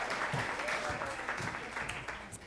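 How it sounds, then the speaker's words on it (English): Applause from a live storytelling slam crowd continues as a storyteller comes up to the stage, a broad, fairly distant clapping wash with faint voices mixed in. "Keep clapping. Keep clapping her up the stage."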